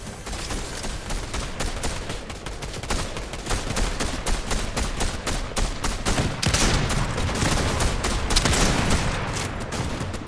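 Dense, continuous gunfire from Fortnite, rapid bursts and single shots overlapping loudly throughout with explosive cracks.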